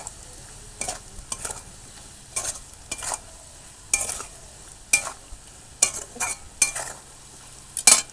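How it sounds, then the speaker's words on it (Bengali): Fried spices are stirred in a frying pan, with a quiet sizzle under repeated scraping and clinking strokes of a spatula against the metal, coming in irregular bursts close by. "যে মশলাগুলো আমি এখন ভাজা করলাম, করে আমি একটু নেড়ে চেড়ে নেব।"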